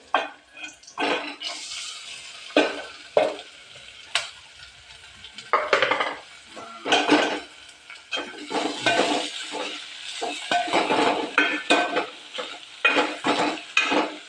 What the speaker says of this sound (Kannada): ಅದು ಈಗ ಚೆನ್ನಾಗಿ ಫ್ರೈ ಆಗಬೇಕು ಸ್ವಲ್ಪ ಸ್ವಲ್ಪ ಎಣ್ಣೆಲೆ ಅದನ್ನು ಬೇಯಿಸಬೇಕು